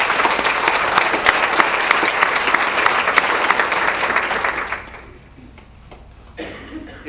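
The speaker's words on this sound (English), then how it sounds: "let's give a round of applause to their generous party sponsorship" An awards-gala audience breaks into sustained, dense applause for the party sponsors, loud and steady for nearly five seconds before dying away to a quiet room with a brief small flutter near the end.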